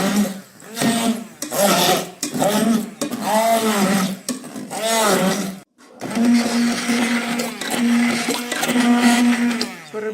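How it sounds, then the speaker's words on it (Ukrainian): A blender whirs loudly in several pulsing bursts, its motor pitch wavering as it chops berries into purée, with a short pause before a longer steady run. "не збиваємо, а перебиваємо, подрібнюємо блендером"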